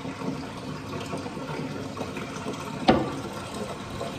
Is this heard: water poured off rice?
yes